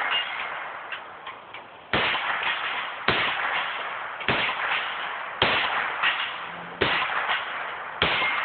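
A new .22 rifle fires at a steel plate rack: about seven sharp, evenly spaced shots roughly a second apart, each a crisp crack with a brief fading tail, and no talking.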